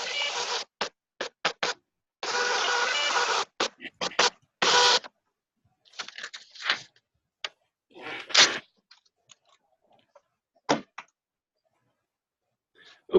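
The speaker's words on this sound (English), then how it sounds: "I'm not sure if you guys can hear the printer printing" A receipt printer runs off copies in bursts of rapid buzzing feed noise, with short pauses and scattered clicks between them, close and moderately loud.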